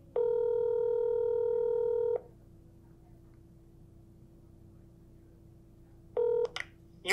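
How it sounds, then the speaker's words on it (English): Phone call being placed: a long steady tone lasting about two seconds, then near silence, then a shorter tone followed by brief clicks, loud and close with no talking. "dial number"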